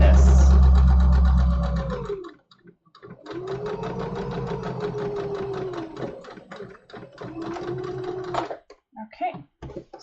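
Sewing machine running in steady bursts while stitching a French seam on a summer tunic, with a loud thump at the start, a brief pause, then two further stitching runs close to the microphone.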